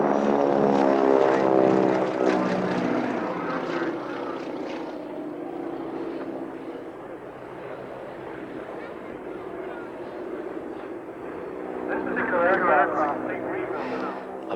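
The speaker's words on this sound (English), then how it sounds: "450 horsepower Pratt & Whitney engine" Vintage Second World War trainer biplane with a 450 horsepower Pratt & Whitney engine flying at an airshow in Newtownards, a steady loud propeller drone that dips and swells again, with a voice talking over it.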